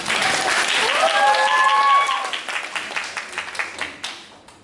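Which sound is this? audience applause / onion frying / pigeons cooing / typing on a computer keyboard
audience applause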